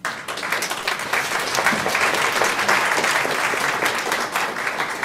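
A room full of people at an Ogden City public gathering claps steadily, a dense and sustained round of applause that stays fairly loud throughout.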